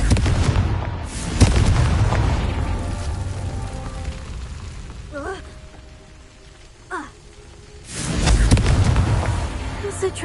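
Blasting-spell explosions in Hogwarts Legacy: heavy booming bursts rumble out near the start and again near the end, with a quieter stretch of shimmering magical effects between them.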